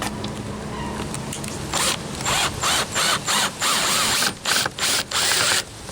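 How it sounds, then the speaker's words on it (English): A screw is driven at an angle into a seam on a camper's shower wall, heard as a close run of short, rhythmic ratcheting bursts from a driver, with quieter mechanical fiddling before it. "put this screw in at an angle this way and this screw in at an angle this way"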